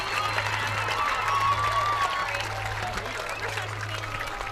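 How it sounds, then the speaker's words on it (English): A crowd at an outdoor athletic field applauds Hall of Fame inductees, steady clapping and a few cheers under a low continuous hum, with voices talking over it. "Let's have a nice round of applause for all of our"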